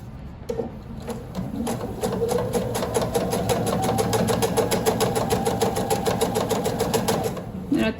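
A sewing machine stitches binding onto a scrappy quilted placemat in one steady, close, continuous run of rapid needle hum that lasts several seconds before slowing at the end.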